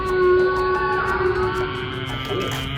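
A crowd of children at a library summer reading program imitates a blue whale with long, sustained, wavering voiced moans, loud and close, trailing off together.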